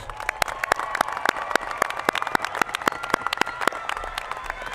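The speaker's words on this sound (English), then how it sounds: "Let's give them a big round of applause." Audience applause at a high school commencement ceremony, with dense, steady clapping from a large crowd in a hall, sharp individual claps standing out throughout without pause.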